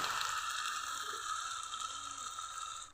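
Chicken chaap fries in a little oil, making a soft, steady sizzle with a faint bubbling texture, close and continuous, with no voices.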